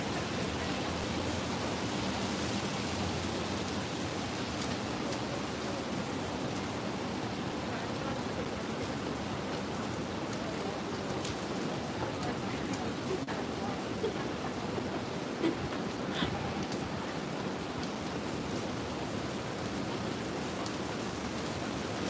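Rain pours onto a Manhattan street in New York City, a dense, steady hiss of falling water that stays loud and even throughout, with faint city noise underneath.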